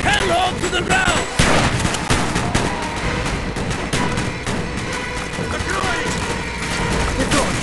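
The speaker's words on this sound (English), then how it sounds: "Shoot the lock, Mason!" Dense, continuous gunfire rattles through a loud video-game battle involving Mason, with overlapping shots and heavy blasts filling the whole stretch and no voices.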